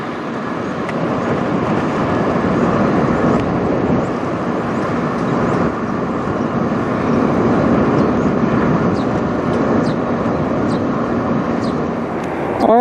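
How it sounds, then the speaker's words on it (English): A Boeing 737 MAX 8 airliner flies over near Toronto airport, its engines giving a steady, loud broadband roar that holds for the whole stretch. "our next is a Boeing 737 MAX 8 coming from Orlando"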